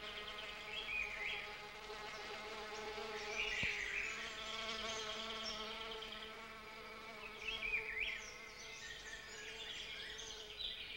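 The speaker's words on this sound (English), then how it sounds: "This is done exclusively by a species of beautiful, iridescent orchid bee, the plant's one and only pollinator." A small iridescent orchid bee buzzes around an orchid, its droning hum rising and falling as it circles close by, with a few louder passes near the start, middle and end.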